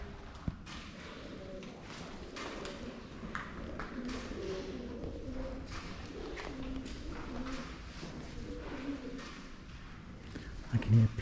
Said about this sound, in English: All those pigeons going mental.